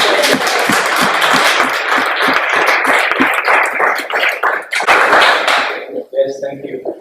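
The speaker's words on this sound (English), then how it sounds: "give them a warm applause" Audience applause at a startup talk event: dense clapping from a crowd with some sharp, rhythmic claps, fading out after several seconds as a single voice begins to speak.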